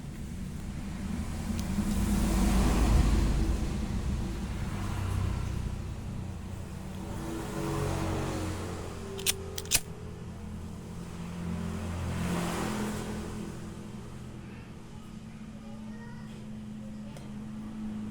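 A Timor car idling while its engine warms up, a steady low rumble with gentle swells in revs, heard close with faint background noise and a couple of brief clicks.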